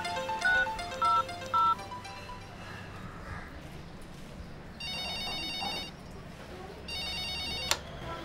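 A telephone rings in a home setting, first in three quick electronic beeps, then two longer bell-like trilling bursts, fairly close and loud against a low background hum.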